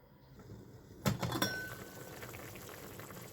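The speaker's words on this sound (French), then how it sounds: "la sauce tomate est bien en train de bouillir" Tomato sauce bubbling in a pot on the stove for a Crohn's-friendly pasta dish, with a quick cluster of louder pops and bursts, then a steady low simmering patter continuing alone.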